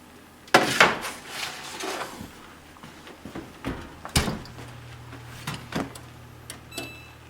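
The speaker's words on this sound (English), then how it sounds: "So I'm gonna take the sweet potatoes out of the oven now." Sweet potatoes being taken out of a home oven: a sharp metallic clank of the oven door opening, then scattered clatters and knocks of pans and racks, a thump of the door closing, and a low fan hum underneath.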